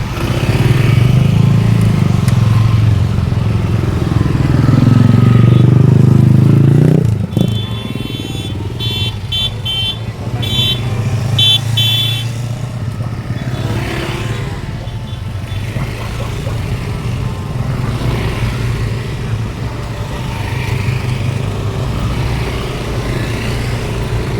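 Motorcycles roar at a bikers' club anniversary gathering in Banten. A loud, steady engine blare lasts about seven seconds, then drops to a lower rumble with some clatter that continues to the end.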